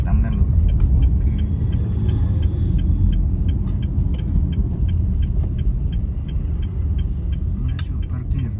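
A Honda Brio LCGC hatchback rolling slowly into a basement car park: a steady low engine rumble and road drone close inside the cabin, with a faint regular ticking like an indicator running through it.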